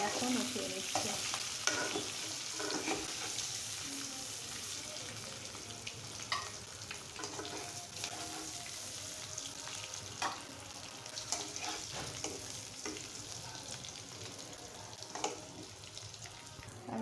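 Eggs fry in soybean oil in a pan with a steady, bright sizzle throughout, punctuated by the scrape and clatter of a spatula stirring and lifting them.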